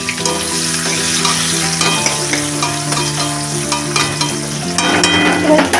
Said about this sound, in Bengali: এখন আমি এই পেঁয়াজটাকে ভালো করে ছেঁচে দেবো